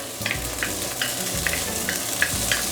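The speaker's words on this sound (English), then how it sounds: "So we are going to saute this until the flavor release." Garlic and young ginger sauté in a pot for a fish and vegetable stew, a steady close sizzle with soft periodic stirring scrapes throughout, no talking.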